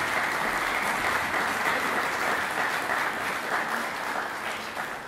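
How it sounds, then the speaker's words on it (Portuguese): An audience applauds after a performance at a Paraná music soirée, with dense, even clapping that sounds fairly close and continues for about five seconds without letting up. "Pode aplaudir."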